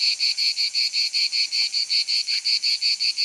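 A cicada or similar night insect chirps in a steady, fast pulsing rhythm of shrill, evenly spaced bursts, heard alone and fairly close throughout.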